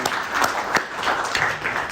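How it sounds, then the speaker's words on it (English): Audience applause at an academic talk on business management, a short burst of steady clapping filling the room from start to finish, alone without voices. "Please welcome him with a round of applause"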